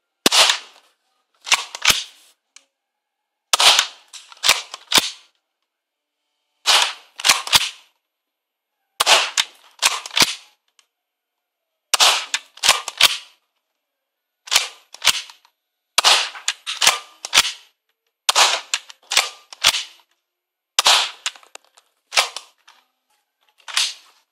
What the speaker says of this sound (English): we'll put a few shots over the chrony